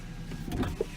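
The driver's side power window of a silver 2007 Volvo XC90 AWD moves along its track, a short, low electric motor whir ending in a soft thump as it stops.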